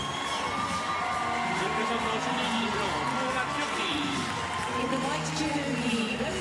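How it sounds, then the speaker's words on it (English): A crowd at a para judo tournament cheers and shouts steadily, a broad sustained roar with whoops rising and falling throughout, while a commentator's voice runs faintly over it. "the crowd now into the spirit. They've had a French win, so their spirits are well and truly up"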